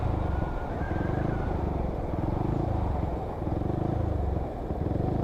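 A Yamaha R15 motorcycle engine idles on its first start, a loud, close, steady putter with a fast even firing rhythm and little change in pitch throughout.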